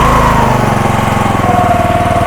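A pressure washer skid's small engine runs loud and close, a steady droning hum with slight pulsing as it holds speed, no voices present.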